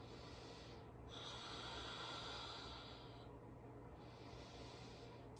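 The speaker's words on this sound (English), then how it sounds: "Take about 2 more deep breaths in your warrior one." Steady, drawn-out deep breathing during a warrior one yoga pose in a slow stretch class, a long airy inhale and exhale over a constant low background hum, no talking.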